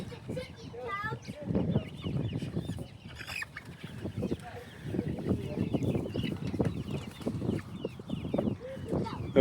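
Chickens in a trailer chicken coop give scattered clucks and soft squawks with some wing flapping, mixed with outdoor noise and people talking nearby.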